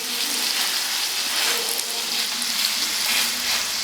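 Steady, dense sizzling of meat frying in a hot pan, a continuous crackling hiss with no voices.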